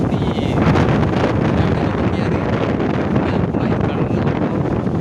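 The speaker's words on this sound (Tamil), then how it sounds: "ஏன்னா சுற்றி அப்படி காற்றடிச்சு பயங்கரமாக இருக்கும்" Strong wind blowing at the Kadana river dam, loud gusty buffeting across the microphone that rumbles and surges continuously from start to end.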